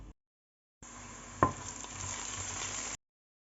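Ground pepper, cumin and fennel fry with a quail mixture in a pan: a steady soft sizzle with a sharp clink of a utensil near the start, then ongoing frying until it cuts off.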